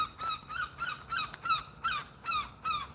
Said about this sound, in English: noisy seagull